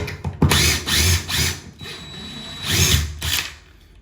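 A power drill driving screws into a subfloor during floor prep for tile, several short whirring bursts with pauses between, close and loud, the last run winding down.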